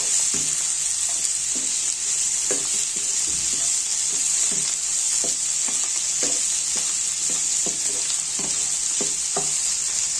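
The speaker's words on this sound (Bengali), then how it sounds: "এখন দিয়ে দিচ্ছি জুলিয়ান কাটে কেটে নেওয়া ক্যাপসিকামগুলো। নেড়ে মিশিয়ে দিচ্ছি।" Julienned capsicum stir-fried with garlic mushrooms in a hot pan, a loud, steady sizzle punctuated by regular scraping strokes of a spatula stirring the vegetables.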